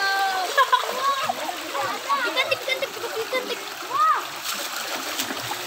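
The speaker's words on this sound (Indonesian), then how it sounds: "Bocah-bocah mengisi waktu berenang di rawa." Children swim and splash in a swamp at a recreation spot in Depok, with continuous close water splashing under their excited high-pitched shouts and chatter.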